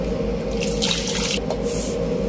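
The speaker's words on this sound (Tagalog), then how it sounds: "Isang kaldero, ilagay din tubig" Water runs steadily from a tap into a container, a continuous splashing hiss over a low hum, close by with no talking.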